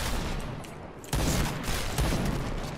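Sniper rifle shots in Point Blank, a video game: two or three sharp, loud cracks about a second apart, cutting through dense, noisy game sound.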